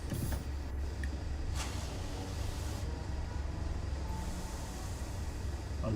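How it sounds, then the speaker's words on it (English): In the Train Sim World 6 game, train brakes release with a couple of brief hissing air bursts over a steady low rumble of the locomotive, fairly quiet. "I love that sound of the brakes."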